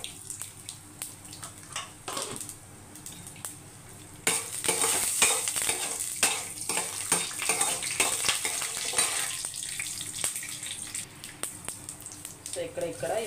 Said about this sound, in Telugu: వేరుశనగలు కూడా వేసుకొని బాగా ఫ్రై చేసేసుకోవాలి